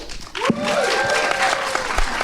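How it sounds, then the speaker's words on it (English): At a Halloween special live show, an audience claps steadily for a slasher movie nominee, a dense wash of applause with some cheering voices above it. "Let's have a round of applause for, first of all, let's go with Tenebrae"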